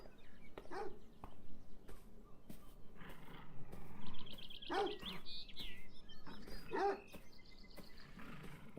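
A dog in Beyond Eyes barks in scattered sharp bursts, roughly four or five spaced barks at moderate distance, mixed with chirping bird calls over a quiet outdoor ambience.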